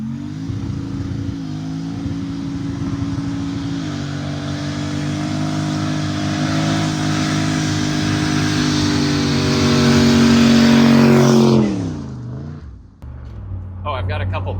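A 1991 turbocharged Chevy Silverado pickup with its exhaust dumps open revs hard and loud up close, holding a steady drone that swells to a peak before dropping away, leaving a brief quiet tail.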